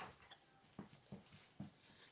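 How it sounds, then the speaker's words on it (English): A dog whimpers faintly in a few short, high whines spaced about a third of a second apart, heard softly at a distance in an otherwise quiet room. "one of my dogs is getting loose right now"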